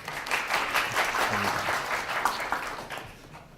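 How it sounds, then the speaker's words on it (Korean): An audience at a reinforcement learning seminar claps to welcome the next presenter, a moderate wash of applause that swells briefly and then tapers off toward the end, with a faint voice murmuring once underneath. "박수 부탁드립니다"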